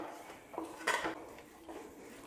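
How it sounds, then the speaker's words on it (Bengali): An egg is beaten in a bowl for heart-shaped Bangladeshi pitha, heard as a few sparse, faint clinks of a utensil against the dish with quiet gaps between. "এই ডিমটা ফেটে আমি এর মধ্যে দেব"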